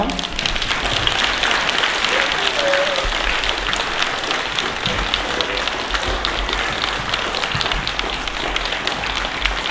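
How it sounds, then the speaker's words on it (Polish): Sustained applause from an audience at a school Grandparents' Day celebration for a third-grade class after their performance, dense clapping held steady for the whole stretch with faint voices mixed in. "Myślę, że kolejne oklaski im się należą"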